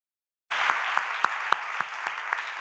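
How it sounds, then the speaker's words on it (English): Audience applause for debaters at a high-level climate debate event, starting abruptly after a moment of silence and continuing as steady, dense clapping with a few sharper claps. "Please, another applause for them."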